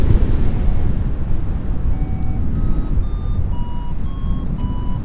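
Strong wind roars and buffets the microphone continuously while paragliding on a Woody Valley GTO Light wing in rising wind, with faint high electronic beeps from a flight instrument stepping in pitch above the rush.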